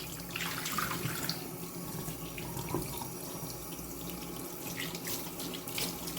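Cold water runs steadily from a kitchen tap while raw ribs are rinsed under it, a continuous splashing hiss with small irregular spatters and no talking.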